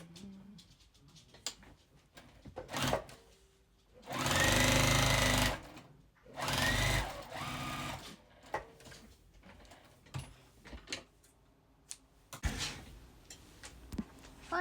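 A faulty sewing machine runs loudly in two long rattling bursts, with shorter stops and starts and faint clicks in between.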